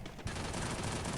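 Gunfire in a competitive shooter game played on an iPhone, one sharp shot followed by a dense, steady burst of automatic fire that stays loud and continuous to the end.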